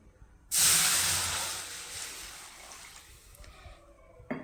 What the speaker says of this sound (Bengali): আমি সোয়াবিনটাকে ফুটাবো, সেই জন্য জল দিয়ে দেবো।